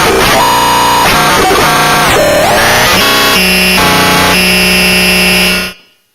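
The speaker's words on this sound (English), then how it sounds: "This one also has the same harsh noise switch from the first one, which makes everything like a really glitchy, chaotic sounding wavetable thing." A Moffenzeef Stargazer synth module with its harsh noise switch engaged spits out loud, glitchy, chaotic wavetable tones, buzzing and lurching between pitches before cutting off abruptly near the end, with no talking.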